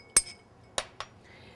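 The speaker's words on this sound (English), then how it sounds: "So we just stir it with ice to chill it for approximately 45 seconds to maybe a minute." Ice and glass clinking as a Manhattan cocktail is stirred with ice in a glass: three sharp, bright clinks at uneven spacing, close by, separated by quiet gaps.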